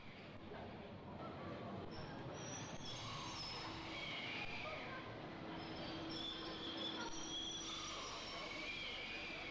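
A London Underground prototype tube train runs steadily, with continuous rumbling rolling noise and faint high wheel squeal throughout, close and sustained.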